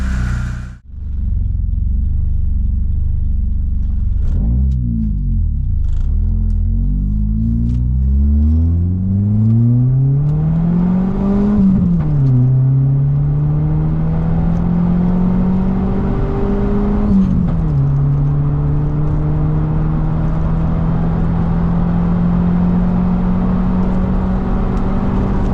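A Vauxhall Cavalier Diplomat with a Peco Big Bore exhaust starts up loud and close, then rises through several revving sweeps before settling into a steady, deep idle, with no talk over it.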